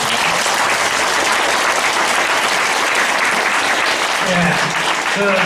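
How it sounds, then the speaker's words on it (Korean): Big round of applause from an audience honoring teaching committee members at a closing ceremony of a senior academy at a Catholic parish, loud and sustained clapping throughout, with a few voices near the end. "우리 교무위원 모두를 위해서 한 번 더 큰 박수 부탁드립니다"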